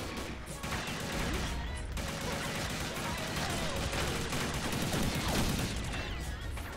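Shotgun blasts in a competitive first-person shooter match, part of a dense, continuous barrage of gunfire with other weapons cracking around it, with a player's voice talking over the noise.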